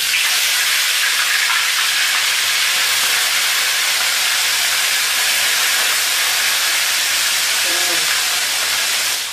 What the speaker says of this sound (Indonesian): Ini sudah panas, kita mau goreng aja.